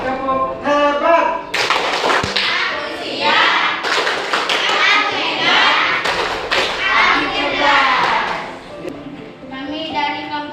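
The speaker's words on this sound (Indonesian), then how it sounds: "kita berikan tepuk hebat dulu ya dari kelompok 3 dan kelompok 1" A class of children performs a patterned 'tepuk hebat' clapping cheer during a school lesson, with loud rhythmic claps and thumps mixed with children's voices chanting and talking, continuing steadily throughout.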